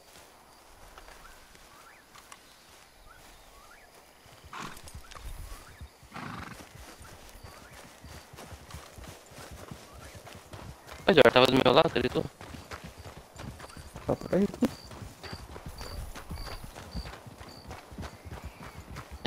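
Horse hooves clip-clopping at a walk in the video game Red Dead Online, with a whinny and other game sounds, under casual talk between players.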